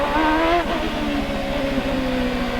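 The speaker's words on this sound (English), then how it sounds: "You can hear him working that Honda engine in the low RPM band in second gear" Honda-powered CART race car engine at low revs in second gear through the Long Beach street circuit complex, a loud, steady close-up drone with harmonic whine that dips briefly, then holds on without any talk.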